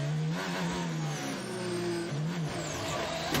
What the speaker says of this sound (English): It sounded like it had an extra downshift there.